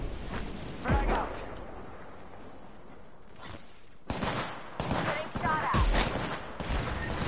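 Grenade blasts and gunfire in a squad-based battle royale shooter, with a Watson ultimate and a Havoc rifle in play, come in bursts of booming impacts and shots, with players talking over the fight.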